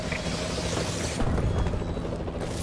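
Warbird support aircraft in a first-person shooter video game, a loud close rotor-like droning thrum flying overhead, building briefly in the middle and easing away.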